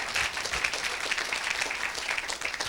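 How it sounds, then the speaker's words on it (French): A church congregation applauds during a Sunday worship service, producing a dense, steady wash of clapping that holds at an even level for about three seconds. "Oh, acclamez Jésus-Christ."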